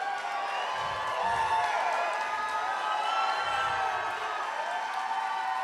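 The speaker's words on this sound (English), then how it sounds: "I want to just have everyone give a big round of applause for Matt Hoyt" An audience at a live retrospective event for Matt Hoyt gives sustained applause, steady clapping with scattered cheers and whoops, moderately loud and continuous throughout.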